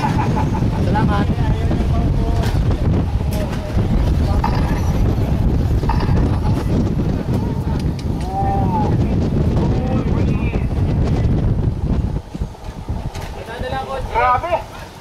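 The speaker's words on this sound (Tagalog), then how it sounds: "Talas ng hangin." Strong wind roars steadily across the water at an outdoor RC car race course, a dense continuous rush of buffeting noise with voices talking underneath throughout.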